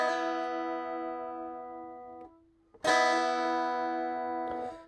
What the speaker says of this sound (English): And then you immediately hammer on after that hit.